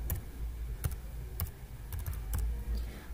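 Quiet keyboard typing, a handful of separate key clicks tapped at an uneven pace over a soft background hum.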